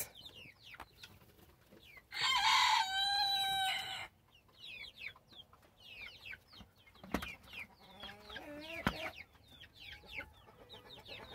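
Bantam hens cluck softly and steadily in a farmyard while a rooster lets out one loud, close crow, with more scattered clucks and calls continuing around it.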